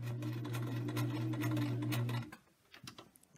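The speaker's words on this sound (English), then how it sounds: "So just sew along the very top seam" A sewing machine stitches along the top seam of a fabric face mask, running as a steady close mechanical whir for about two seconds before stopping, followed by faint handling clicks.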